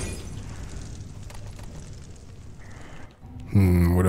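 An incendiary grenade goes off in the video game Dead Island: Riptide, a loud sustained rumbling burst with crackling that fills the mix, ending in a sharp louder blast at the close.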